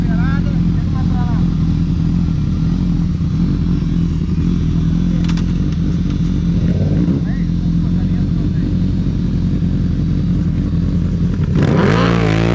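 A Honda Hornet and a Yamaha MT-07 motorcycle engine run continuously with a rough, loud drone, climbing into a sharp rev near the end while people talk over it.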